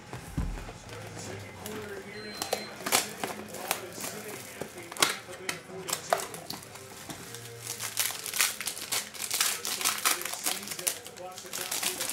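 A pack of 2020 Optic Choice baseball cards is torn open, with sharp crinkling and ripping bursts of foil wrapper and card shuffling close to the microphone, while someone talks throughout.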